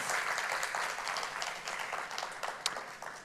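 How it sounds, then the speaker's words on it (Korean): A church congregation at a Sunday worship service applauds the choir with sustained, moderate clapping that fades slightly, with a few sharper individual claps near the end. "우리 찬양대 찬양에 다시 한번 감사의 박수 보도록 하겠습니다"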